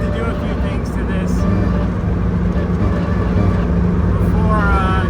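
A K24-swapped Nissan Cefiro on the move, with a loud, steady differential whine droning under the engine and road roar, continuous and close from inside the cabin.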